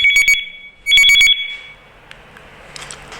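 A Miniphone wireless watch phone rings in two loud, close bursts of rapid electronic trilling, then falls quiet with faint room noise and a few small clicks.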